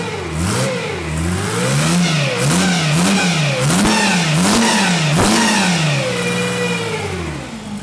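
A supercharged 600-plus horsepower Mercedes OM606 diesel engine is revved repeatedly, loud and close, in a series of rising and falling blips, with the pitch climbing and dropping about eight times before settling.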